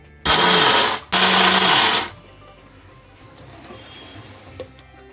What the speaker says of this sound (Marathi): आता आपण भाजलेले शेंगदाणे मिक्सरमध्ये टाकून त्याचं कूट बनवून घेऊया